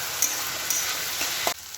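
Pond snails (googli) sizzle loudly in a pan, a steady frying hiss with a few light scraping stirs before the sound drops off near the end.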